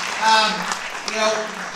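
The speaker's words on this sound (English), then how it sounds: "let's give a big round of applause for our panel there" An audience at a plenary panel on education breaks into applause, a dense wash of clapping that swells and eases over a short moment while a voice speaks over it.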